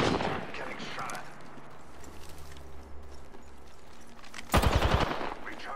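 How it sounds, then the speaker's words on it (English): Gunfire from the video game Apex Legends, a short loud burst of shots near the end following a stretch of quieter game ambience and low hum, with voices talking over it. "Getting shot at."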